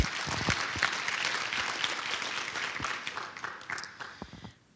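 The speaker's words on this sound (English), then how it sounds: "Give yourself a round of applause." An audience at an autism event in Vancouver applauds, a dense wash of many hands clapping at once. It holds steady, then thins out and fades toward the end, with no speech over it.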